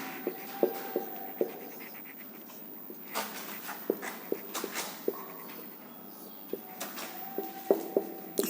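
Chalk or pen writing the Sanskrit word gacchha by hand, a string of short taps and scratching strokes with quiet pauses between them.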